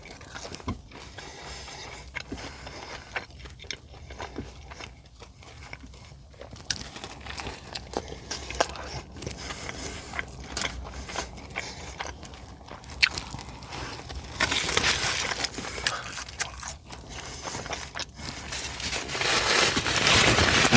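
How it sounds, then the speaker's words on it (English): Crisp cut fries from Del Taco being eaten up close: soft bites and wet chewing with light crunches and paper crinkling, fairly loud and continuous, with a rustling burst near the end. "we'll wash it down with some of these crisp cut fries"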